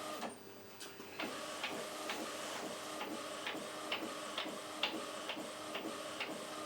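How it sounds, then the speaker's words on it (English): A printer runs steadily, with rhythmic mechanical whirs and clicks repeating as the print head moves back and forth, close by and fairly quiet. "Hopefully that will send it to the printer."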